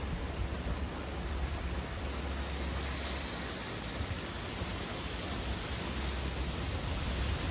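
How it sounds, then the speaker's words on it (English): Steady rain falls continuously, a dense, even hiss of drops on surfaces with no break in intensity and no voices. "I guess the rain's not going to be as bad as I thought."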